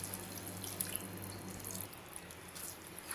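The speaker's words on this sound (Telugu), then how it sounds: "అందుకే నేను కొంచెం వాటర్ వేస్తాను." Water being poured into a pan of ridge gourd masala curry, a steady trickling pour under constant kitchen hiss, with a low hum fading out partway through.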